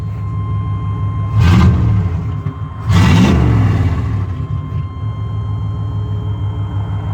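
A 1995 GMC Sierra pickup with straight-piped exhaust idles loudly, then gets revved twice in quick bursts that roar up and fall back to a rough, rumbling idle, heard close with no talking.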